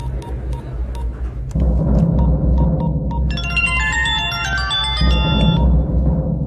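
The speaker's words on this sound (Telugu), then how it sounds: "बज रहा फोन, बात करेंगे." A bright electronic ringtone plays a repeating melody over a low steady rumble, loud and close, with no one speaking.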